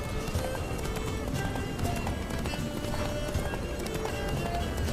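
Rapid, continuous galloping hoofbeats of a horse in the video game The Witcher 3: Wild Hunt drum steadily under a dense, busy background mix.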